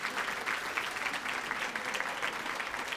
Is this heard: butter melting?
no